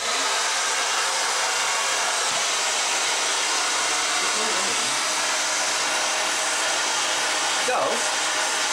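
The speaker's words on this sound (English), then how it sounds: "What if I use the hairdryer?" A hairdryer blows with a steady, loud whooshing hiss that continues without pause.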